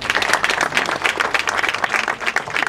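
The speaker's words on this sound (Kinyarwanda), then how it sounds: "tumuha amashyi" An audience at a formal gathering claps to welcome an official, a dense and lively round of applause that stays loud and close throughout.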